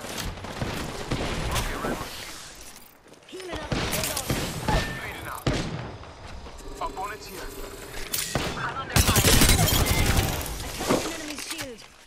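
Gunfire in a fast Apex Legends firefight, with a Rampart match in progress: dense bursts of shots and impacts come in clustered volleys, loud and close, mixed with game effects and occasional voice lines.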